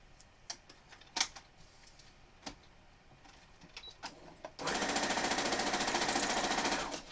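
Scattered clicks and taps of handling give way to a steady, loud whir as a sewing machine chain-pieces quilt fabric, running continuously for a few seconds before stopping.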